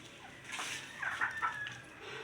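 Chickens in a coop give soft, scattered clucks, faint and brief over a quiet background with no talk.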